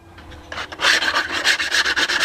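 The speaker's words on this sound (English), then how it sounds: "get a sanding block and just dress this edge off nice and straight" A sanding block dressing the edge of a custom windshield by hand, producing repeated rasping strokes that grow louder after a quiet start, close and steady in rhythm with no talk.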